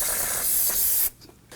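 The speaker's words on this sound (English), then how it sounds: "we're going to go ahead and spray this down with some spray solvent" Solvent spray hisses steadily out of an aerosol can onto a car battery terminal during a 2015-2024 Nissan Murano battery replacement, one continuous close burst of about a second that then cuts off.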